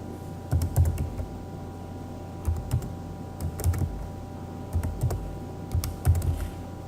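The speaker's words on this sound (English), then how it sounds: "Type a strong password." A password is typed on a computer keyboard in short clusters of quick, close key clicks separated by brief pauses, with a faint background hum.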